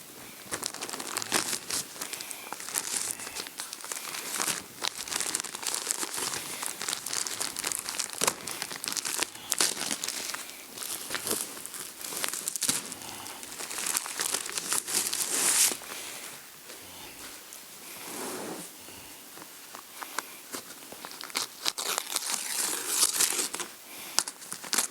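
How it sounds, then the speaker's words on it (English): Plastic wrapping is crinkled, torn and pulled off a batt of paper-faced insulation in a woodshop, producing continuous close crackling and rustling for about twenty-five seconds with no talk. "let's see if we can get this plastic off this."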